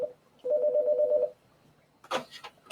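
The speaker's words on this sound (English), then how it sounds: "phone is ringing" A phone rings in an indoor room with one steady electronic warble lasting under a second, then a short burst of noise follows.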